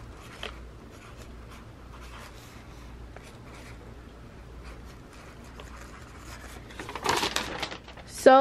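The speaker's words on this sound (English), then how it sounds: "To write down the order number." A pen faintly scratches an order number onto a shipping package in short, quiet strokes, ending with louder rustling and handling of packaging.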